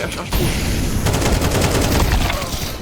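Dense, loud automatic gunfire in Counter-Strike 2, a sustained rattling burst of rapid shots close by, with a voice briefly under it.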